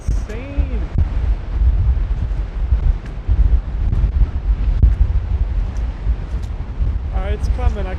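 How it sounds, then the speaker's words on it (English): Strong wind roars continuously across an open overlook in Duluth, Minnesota, loud and buffeting the microphone throughout, with brief voices and a faint higher tone near the end. "it's just, the wind is insane."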